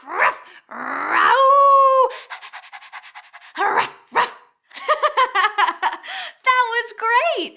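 Preschool children pretend to be dogs, voices imitating panting, growling and a run of yappy barks in bursts with short pauses between them.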